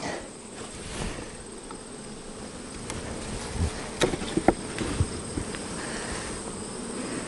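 Honey bees buzz steadily at a hive during a honey harvest, a close, continuous droning swarm with a few soft knocks and clicks rising through it toward the end.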